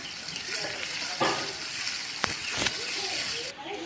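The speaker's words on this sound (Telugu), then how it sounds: "ఉల్లిపాయలు వేసుకొని ఫ్రై చేసుకోవాలి" Onions fry with crushed garlic and curry leaves in a hot seasoning oil, giving a steady close sizzle broken by a few sharp crackles and spatters.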